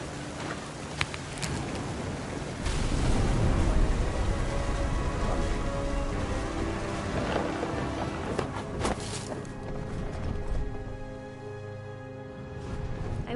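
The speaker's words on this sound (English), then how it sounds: "The thunder sounded much too close and full of angry power." A thunderstorm in the game What Remains of Edith Finch: steady heavy rain pattering on surfaces with low rolling thunder rumbling through, loud and continuous, easing slightly toward the end.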